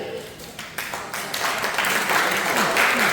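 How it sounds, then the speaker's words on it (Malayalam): Applause from a crowd at a Malayalam class opening ceremony swells over a few seconds, growing louder and denser toward the end. "എല്ലാവരും ഒന്ന് കൈയടിച്ചല്ലോ."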